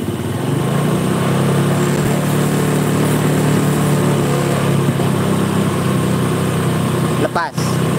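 Honda Supra motorcycle engine, with a gearbox clunk and a popping exhaust, held at raised revs in a close, loud, steady drone for several seconds before easing off briefly near the end.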